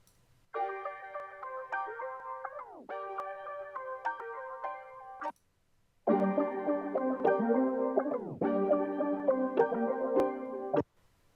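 A bright, high synth melody plays in two phrases separated by a short gap, each ending with a downward pitch bend, clear and alone.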